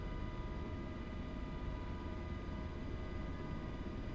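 KC-135 refueling aircraft flying overhead, a faint steady broadband jet roar holding even throughout with no distinct peaks.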